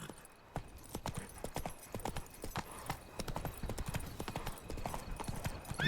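Horse Roach's hooves clip-clop steadily in a fantasy video game, a rapid, regular trotting rhythm of close, distinct hoof strikes over a faint ambient background.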